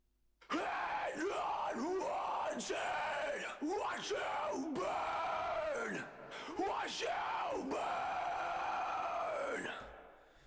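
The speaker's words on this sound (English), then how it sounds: "Some screams at some point." Double-tracked rock vocal screams from a studio recording, loud and raw, with long yelling and groaning bursts rising and falling one after another for about ten seconds before fading out.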